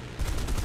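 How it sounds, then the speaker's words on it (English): A quick rapid burst from a Spitfire F Mk XVI's machine guns in War Thunder starts abruptly and rattles loudly over engine drone. "Just firing single bursts."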